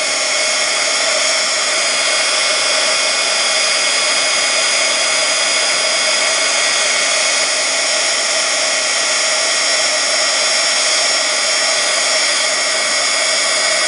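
A heat tool blows a steady, loud, even roar while melting Ranger embossing powder on polymer clay for a pendant, a constant whine with no breaks and no talk.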